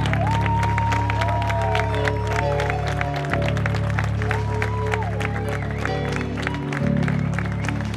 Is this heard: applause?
yes